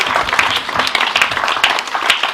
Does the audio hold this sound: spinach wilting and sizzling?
no